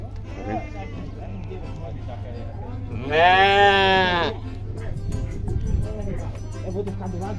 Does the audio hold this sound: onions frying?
no